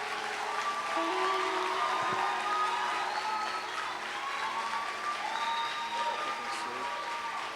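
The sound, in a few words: applause for Jesus in church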